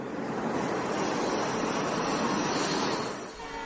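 A train rolling into Vizag station makes a loud, steady rumble with a thin, continuous wheel squeal above it that fades near the end.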